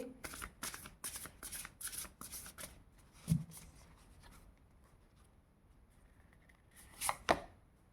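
Tarot cards are handled and shuffled with quick papery flicks before a single card is drawn from the deck with a brief slide near the end, close and quiet.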